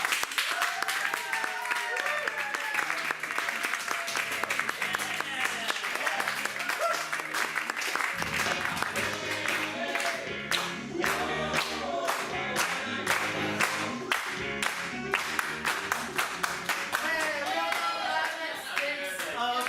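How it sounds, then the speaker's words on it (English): Comedy-show audience greeting the improv group Latinx States of America with sustained applause, a steady crowd clatter of clapping that runs the whole stretch with music playing loudly underneath. "Everybody give a huge round of applause for the Latinx states of America."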